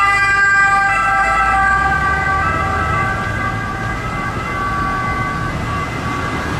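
A toy ambulance's electronic siren wails steadily and loudly up close, its high warbling tones sustained throughout over a low background rumble.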